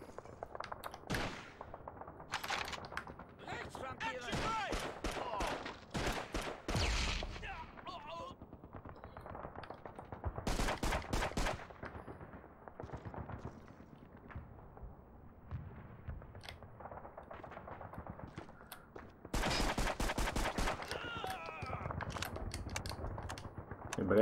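Gunfire in Call of Duty 2: Big Red One on PS2 comes in loud, sharp bursts and rapid volleys, broken by quieter stretches of distant shots and scattered battle noise.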